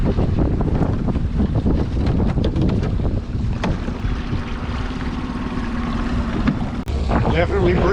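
Gusty wind buffets a boat on open water during crabbing, loud microphone-roaring wind with water sloshing and creaks, a voice speaking over it.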